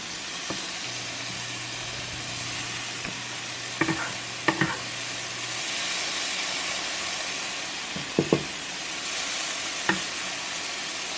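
Shrimp tipped into a pot of seafood bisque, giving a soft steady sizzle and hiss with a few sharp clinks and stirring knocks scattered through it; nobody speaks.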